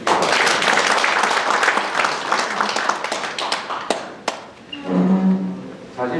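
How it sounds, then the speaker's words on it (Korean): Steady applause from an audience at a forum and founding convention, dense clapping that fades out after about four seconds, followed by a voice speaking over the quieter room. "박수 한 번 더 주시기 바랍니다."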